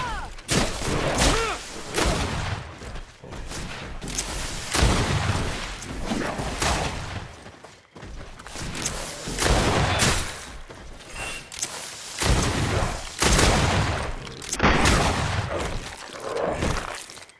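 Repeated dense bursts of volley gunfire and booming impacts in the fantasy role-playing game Greedfall, loud and chaotic, surging in waves across the whole stretch with brief lulls between.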